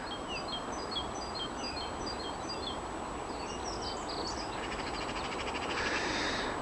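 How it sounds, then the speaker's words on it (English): Faint birds chirping and calling in the distance on a cold early morning, over a steady broadband hiss of outdoor background noise. "I'm here early in the morning, as you can hear by the bird song."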